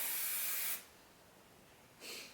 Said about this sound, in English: The Shine Spray, the Kenra one, I use this one mainly on my brunettes.